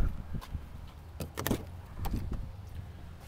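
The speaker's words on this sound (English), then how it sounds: "I'll open the passenger door for you here in the front." The front passenger door of a 2012 Chevrolet Silverado 1500 LT Crew Cab opens with a few quiet clicks and latch clunks, faint and close.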